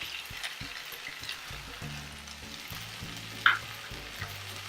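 Bhindi, okra, sizzles softly in a frying pan with red chilli powder as a spatula stirs and scrapes it, a quiet continuous frying hiss with occasional sharper clinks.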